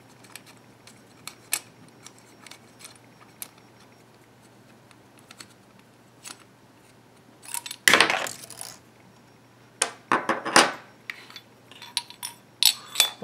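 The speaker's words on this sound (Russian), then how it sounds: "В нижней части магазина откручиваем поджимной винт." A hex key unscrewing the clamping screw at the base of a Gletcher JRH 941 air pistol magazine, all-metal gun, heard as sparse small metallic clicks and taps, then louder scraping, rattling bursts near the end.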